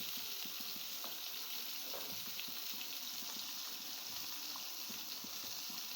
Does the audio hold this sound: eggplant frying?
yes